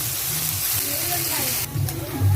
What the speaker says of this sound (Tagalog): Gisa-gisa lang natin to.